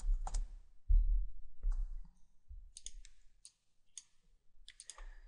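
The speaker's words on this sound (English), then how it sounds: "here I'm going to right click and set the number 0" Sharp plastic clicks of a computer mouse, several isolated taps spaced irregularly, near and fairly quiet, with soft low thumps between them and no talking.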